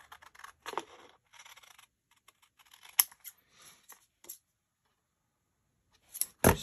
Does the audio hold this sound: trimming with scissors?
yes